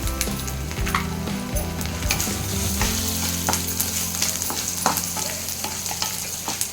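Cumin seeds and black pepper sizzle steadily in hot oil, a close, continuous crackle with scraping stirring strokes throughout, for a betel leaf and garlic rice.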